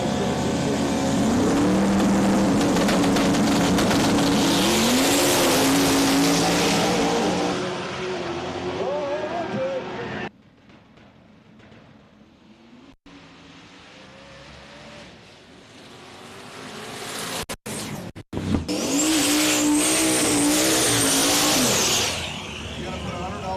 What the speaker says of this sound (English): that's a 427 LS crammed into that Miata.